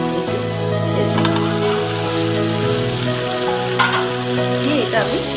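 Pointed gourd (potol) pieces hit hot spiced oil in a pan, a loud, dense sizzle and crackle with a few stirring scrapes and bursts, steady throughout without any voice.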